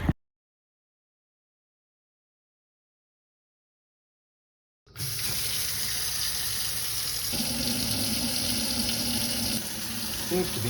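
Water runs steadily and loudly into an apartment sink after a stretch of silence, a continuous close rush that shifts slightly in tone partway through as it drains.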